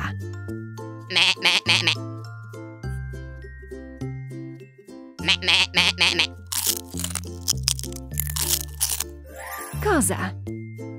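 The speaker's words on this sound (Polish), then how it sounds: "Koza." A goat on a countryside farm bleats several times, loud and near, over bouncy background music with some crunching noises in between.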